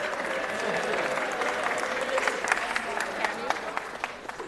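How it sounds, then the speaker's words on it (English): Applause at a city council meeting honoring school sports teams, a sustained round of many hands clapping at moderate loudness, with individual sharper claps standing out as it continues and voices murmuring beneath. "Let's give them another round of applause."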